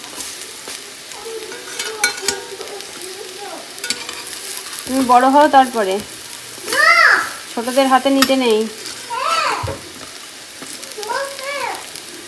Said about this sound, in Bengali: এইভাবেই ভাজা করে নিই